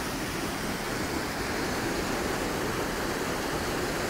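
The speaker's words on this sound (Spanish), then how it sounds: "El río, el tablón, el río San Juan, de donde se toma la represa específicamente." The San Juan river rushes at the dam after rain, its muddy water sending a steady, loud broadband roar that never lets up; no voices are heard.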